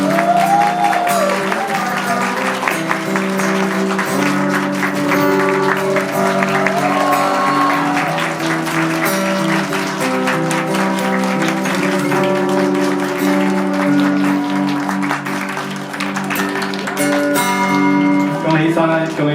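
Wedding guests applaud through a kiss at a wedding ceremony, with scattered claps and crowd noise mixed under loud sustained music and voices.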